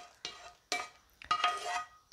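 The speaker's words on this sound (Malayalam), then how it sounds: "ഇനി നമ്മൾ ചേർക്കുന്നത് നമ്മുടെ വറുത്ത് വെച്ചിരിക്കുന്ന കാഷ്യൂ ഒക്കെ" A spoon stirs roasted cashews into payasam in a pan, making three short, quiet bursts of scraping and clinking separated by brief pauses.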